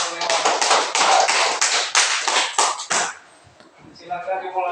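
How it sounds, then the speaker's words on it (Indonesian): Classroom applause from a group of students, a dense burst of many hands clapping for about three seconds, then trailing off into quieter scattered sounds and voices. "Kembali tepuk tangan"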